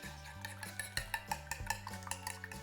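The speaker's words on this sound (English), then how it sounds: "we need to beat 2 eggs in a large enough dish so we can then coat the bread in the egg" Eggs being beaten in a large dish with a utensil, a quick run of light clinking taps against the bowl, steady and close, with faint background hum and no talking.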